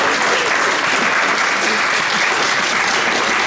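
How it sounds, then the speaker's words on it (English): Loud, dense applause from a room full of people at a community coffee hour, continuous and even throughout with no pauses. "you deserve another round of applause"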